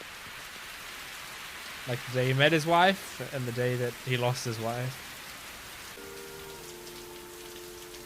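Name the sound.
rain falling in an anime episode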